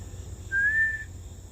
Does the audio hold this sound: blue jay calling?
yes